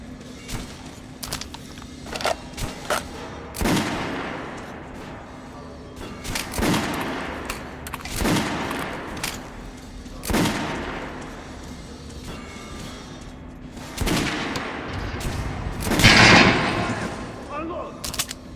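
Gunfire in the video game Metro Last Light Redux, a series of sharp shots and bursts spaced irregularly across the stretch, some louder and closer, with shouted voices mixed in.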